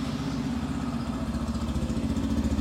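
A Yamaha FZ-S 4.0 motorcycle idles with a steady, throbbing low exhaust note, close and continuous with a slight mechanical clatter and no talking.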